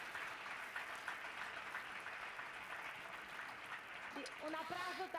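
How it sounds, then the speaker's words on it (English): An auditorium audience at the Guggenheim Bilbao Museum applauds in steady, moderately distant clapping, and a voice comes in near the end. "Let's have a big round of applause for ourselves."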